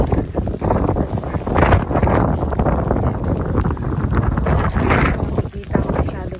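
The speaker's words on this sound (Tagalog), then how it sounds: "Lakas ng hangin." Strong gusty wind buffets the microphone on a hiking trail in Norway, a loud continuous roar with surges, while people talk underneath.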